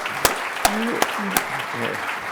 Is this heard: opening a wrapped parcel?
no